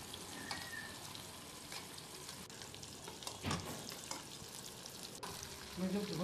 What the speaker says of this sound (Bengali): আমি আগে থেকে কেটে রাখা পেঁয়াজগুলো আমি দিয়ে দিচ্ছি